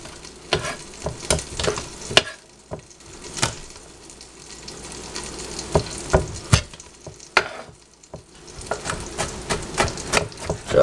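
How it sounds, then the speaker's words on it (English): A knife chops garlic quickly on a cutting board in a home kitchen, making a string of sharp, irregular taps that come in quick bursts with short pauses, close and loud, with no talk. "Chopping up the garlic nice and quickly."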